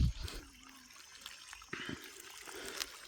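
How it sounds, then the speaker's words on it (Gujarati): Irrigation water runs through a crop field, making a faint, continuous trickling and gurgling with small splashes, heard alone without any talk. "તો અત્યારે જોઈ શકો છો પાણી ચાલુ છે"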